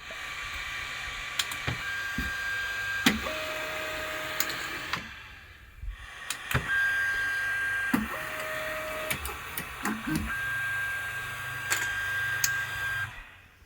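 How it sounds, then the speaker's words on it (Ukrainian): A 3D printer with Nema 17 stepper motors powers up and runs: a steady whirring hum with sharp clicks, a few short electronic tones, and a brief pause partway through. "Так, зараз вімкну принтер."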